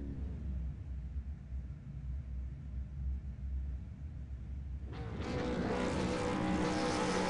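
V8 Supercar engines in the iRacing video game rumble low as the pack sits on the grid at Phillip Island, then swell into a louder, sustained roar as the race gets underway.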